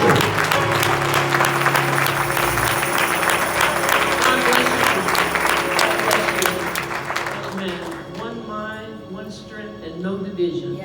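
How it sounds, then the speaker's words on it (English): A church gathering gives a big round of hand clapping to welcome a guest speaker. The dense applause runs loud and steady, then thins toward the end as a voice and music tones come in. "Once you receive Dr. Green with the big hand clap"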